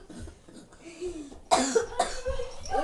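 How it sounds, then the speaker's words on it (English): A sharp cough bursts out partway through, followed by a second rougher cough, with faint background sounds before it. "My cough."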